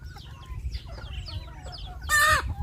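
Several chickens cluck and chatter nearby, ending with one loud, drawn-out squawk.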